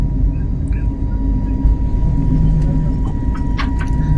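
A passenger airplane on a runway taking off produces a steady low engine rumble heard from inside the cabin, with faint scattered clicks and small sounds on top.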